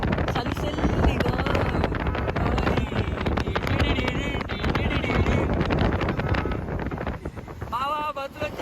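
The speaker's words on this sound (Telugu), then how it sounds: "చల్లగా గాలి చలిగా" Cold wind gusts hard near a waterfall, a loud rumbling buffet across the microphone that runs the whole time, with people's voices talking over it.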